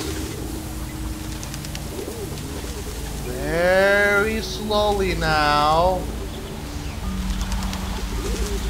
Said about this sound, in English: Why do I hear owls?